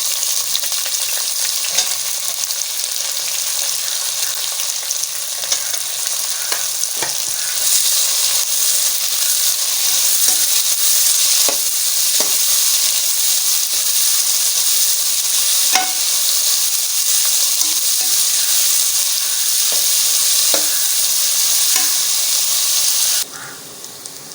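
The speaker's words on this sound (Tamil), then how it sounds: "வெங்காயம் வதக்கிட்டு" Onions sautéing in oil in a pan for dum chicken biryani give off a loud, steady hissing sizzle, broken by sharp stirring scrapes, throughout with no talking.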